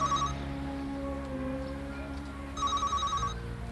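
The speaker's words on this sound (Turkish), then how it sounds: "Telefon çalıyor." A telephone bell rings indoors in two bursts of rapid trilling, the first at the very start and the second longer one near the end, over a steady background hum.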